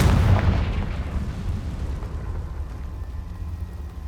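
A Confringo fire-blast spell exploding in the Hogwarts Legacy video game: a loud, deep boom that rolls away into a long, fading rumble.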